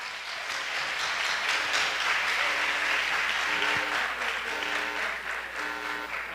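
Steady audience applause welcoming a speaker onto the stage at the opening plenary of a church leadership camp, continuous and fairly close, with a few faint voices underneath.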